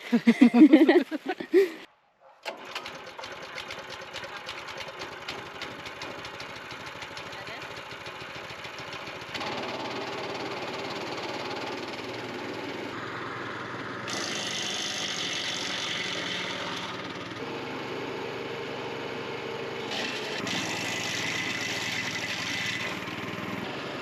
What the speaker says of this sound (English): as soon as it starts, you put the choke back